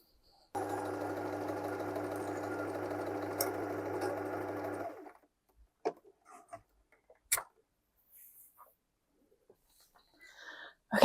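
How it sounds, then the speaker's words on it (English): A sewing machine runs steadily for about four seconds while stitching small drawstring pieces together for gingham pants, then stops, leaving a few faint clicks and handling sounds in a quiet room. "I'll just go to the sewing machine now"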